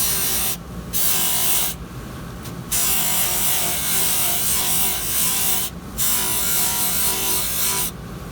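A case is polished by hand on a trimming and polishing setup, giving loud steady whirring and rubbing in long stretches, broken by several brief pauses, with no talk.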